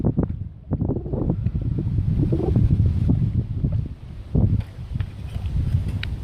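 Gusty wind buffets the microphone while bass fishing from the water, a low rumbling roar rising and falling in uneven bursts, loud and close with brief lulls between gusts.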